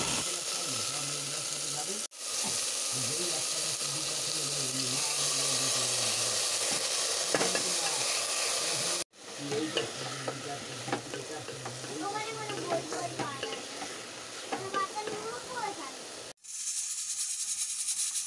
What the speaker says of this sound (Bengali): তো তারপর আমি আলু দিয়ে এটাকে প্রথমে একটু নেড়ে চেড়ে নেওয়ার পরে আমি দেবো হচ্ছে থোড়টা।